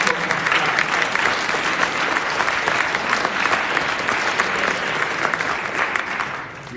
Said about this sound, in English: let's give our candidates another round of applause